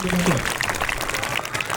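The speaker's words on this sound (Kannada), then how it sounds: "ಎಲ್ಲ ಚಪ್ಪಾಳೆ, ಜೋರಾಗಿ ಚಪ್ಪಾಳೆ" Brief applause from an audience at a school ceremony honouring award-winning teachers, scattered claps following a short voice at the start.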